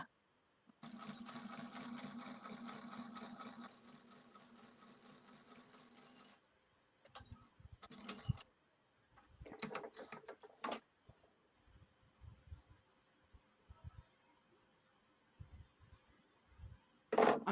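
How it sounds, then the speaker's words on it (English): A sewing machine top stitches a fabric card holder in a rapid, rhythmic burst of stitching lasting several seconds, then falls silent except for scattered clicks, thumps and handling noises. "I'm gonna go ahead and just top stitch this really quick."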